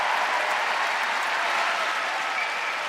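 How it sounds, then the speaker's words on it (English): A large arena crowd applauds after a women's short program figure skating performance at the ISU World Championships in Boston, a dense, loud and steady roar of clapping filling the whole stretch without letting up. "Listen to the reaction from the crowd."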